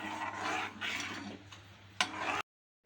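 A thick rice-flour mixture is stirred in a pan with a spoon: repeated scraping, squelching strokes, a sharp clink near the end, then sudden silence.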